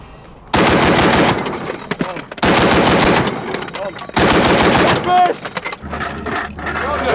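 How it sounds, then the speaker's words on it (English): Heavy .50-caliber machine gun fires loud, sustained bursts at a military base in Afghanistan, three long rattling volleys separated by brief pauses, followed by lighter mechanical clatter and handling noise. "the 50mm heavy machine gun."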